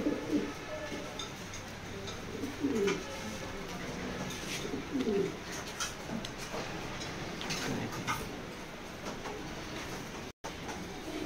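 Maxi racing pigeons coo in soft, repeated low calls at close range, spaced irregularly over a faint background hum with scattered ticks and clicks.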